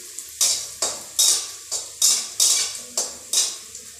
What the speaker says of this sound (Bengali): বড়িটা ভেজে নিই।